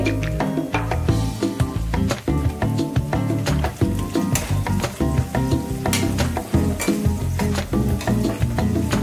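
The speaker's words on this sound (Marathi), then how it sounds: "थोडासा लाल रंग होईपर्यंत याला परतवायचं आहे।" Onion and curry leaves sautéing in a pan for kande pohe give a loud, steady sizzle, with a spoon scraping and clinking against the pan in repeated strokes throughout.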